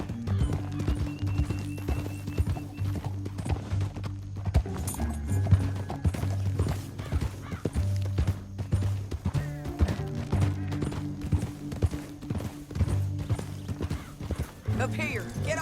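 Horse hooves clip-clop at a rapid galloping rhythm in Red Dead Redemption 2, close and steady under a backdrop of game music, with occasional bursts of talk mixed over the hoofbeats.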